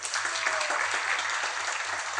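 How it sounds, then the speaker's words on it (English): An audience at a devotional class in a temple applauds together, a dense, steady patter of clapping heard close and continuous, with a low hum underneath. "Can we clap for that?"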